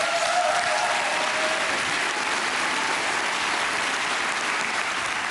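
Sustained, dense applause from a studio audience at a televised dance competition, loud and steady throughout without pause.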